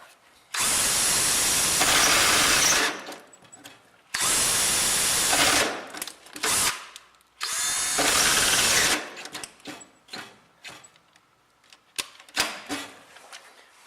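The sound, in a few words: power drill drilling through heavy steel on a 67 Mustang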